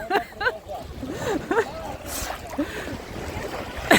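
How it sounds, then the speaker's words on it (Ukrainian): Waves slap and splash against a small boat on the Tylihul estuary, irregular watery hits mixed with wind noise on the microphone, with voices and laughter nearby. "Хвилі накривають."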